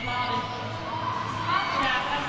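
Roller derby crowd at a 2011 West Region playoff bout between Sacred City and Jet City during a power jam, a steady loud wash of cheering and noise with a commentator talking over it throughout.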